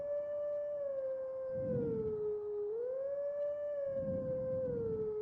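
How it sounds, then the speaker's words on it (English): A wolf howls the Song of Healing in Twilight Princess, one sustained, wavering tonal melody that dips and rises again, loud and steady with faint low rumbles beneath. "Yeah, this is the Song of Healing"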